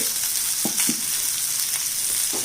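Onion, tomato, amla, ginger and green chili sautéing in a pan for chutney give a steady close sizzle with a few soft scraping stirs, no talking.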